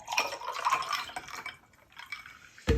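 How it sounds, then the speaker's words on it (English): Splash of lemonade poured into a cocktail glass holding honey, a soft, close liquid pour with light dripping and fizz, ending in a sudden thud as the bottle or glass is set down. "And now I'm just gonna put a splash of lemonade in there."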